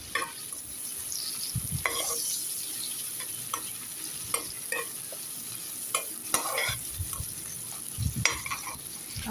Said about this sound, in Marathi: आता बारीक चिरलेला कांदा टाकला आहे. तो व्यवस्थित परतून घ्यायचा.